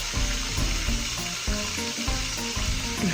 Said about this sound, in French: on passe directement à cuire le maquereau